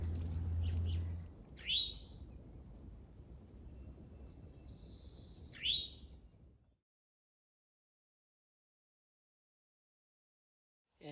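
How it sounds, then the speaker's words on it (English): Birds sing outdoors in warming spring weather along a trail, giving two short, bright chirps a few seconds apart over a low, steady wind rumble that cuts to near silence. "Even the birds know it's getting warmer. They're so happy they're singing."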